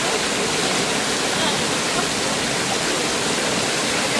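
Steady, loud roar of a waterfall right beside a bathtub set in a hole at the water's edge, a dense, unbroken rush of falling water with no pauses.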